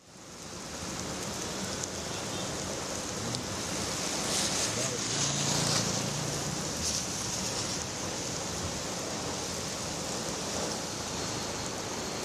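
Heavy rain pours down steadily in Madurai, a dense, even hiss of falling water that holds at a fairly constant level throughout with no break.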